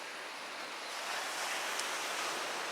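Indian Ocean surf at the seaside by a Dutch fort in Galle, Sri Lanka, a steady broad wash of breaking waves, soft and continuous and swelling slightly midway, with no voices.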